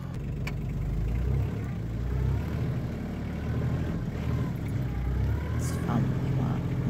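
An Antonio Carraro Tigrecar 3200 mountain tractor engine running steadily with a low rumbling drone, close by, while someone talks over it.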